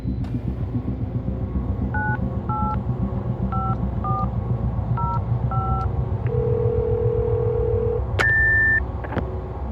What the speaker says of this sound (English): I dial her number from the call box, no reply.